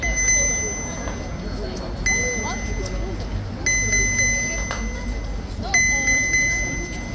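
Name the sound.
camera gimbal error beeping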